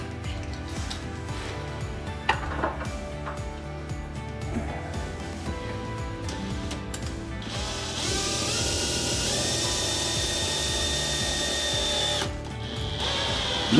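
A power drill drives a screw back in while a basin is being fitted, a steady close whir that rises in pitch for several seconds near the end with a brief ratchet-like clatter before it, no talk.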